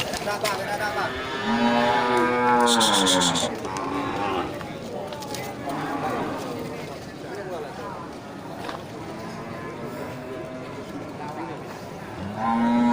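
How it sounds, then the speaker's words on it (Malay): Aceh cattle, a breeding cow and a bull at a livestock sale, let out several loud, drawn-out moos close by, mixed with people talking in the background throughout. "ini sapi indukan ya, sapi jantan"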